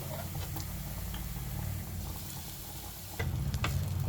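Hot rice being stirred into fried vegetables in a pan gives a steady close sizzle, with soft scraping and ticking stirs that grow a little louder near the end.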